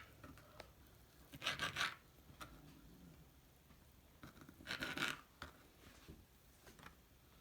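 A knife slicing ham for bagel pizzas on a kitchen board, two short scraping bursts of cutting with quiet handling between them, close and soft.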